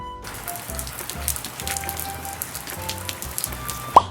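Heavy rain pattering steadily on a surface, a dense wash of drops with a few sharper drips standing out near the end, no voices.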